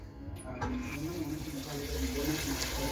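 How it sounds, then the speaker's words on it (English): Tap water runs steadily into a sink as small omena fish are rinsed in cold water, a continuous close splashing flow with faint clinks near the start. "Then una rinse tena na maji baridi."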